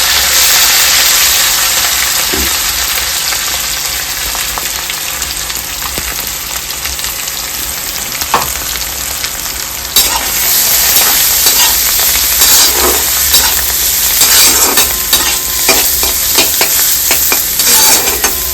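Ground masala sizzles and fries in a pan for Maharashtrian-style red pumpkin and okra sabzi, with a loud, steady hiss and occasional scrapes of a stirring spoon. The sizzle flares up partway through.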